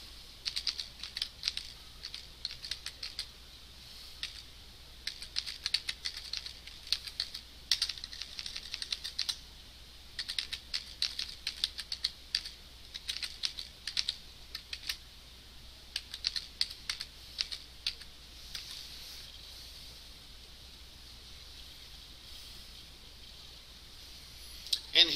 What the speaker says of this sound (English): I'm going to type in my URL.